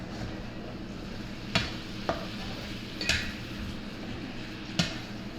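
Shrimp sizzle in butter in a pan while being turned over; a steady close frying hiss is broken by four sharp clinks and scrapes of a utensil against the pan.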